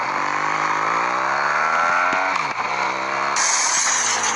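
A motorcycle engine in a Brazilian motovlog video game revs hard, its pitch climbing steadily for about two seconds, dipping briefly, then roaring on loud and continuous with a harsh gear-like whine, no talking.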